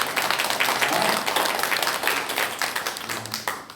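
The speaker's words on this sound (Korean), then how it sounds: "선교사님께 감사의 박수를" A church congregation at a Sunday worship service claps together in dense, lively applause that gradually thins out toward the end, with some speech mixed in.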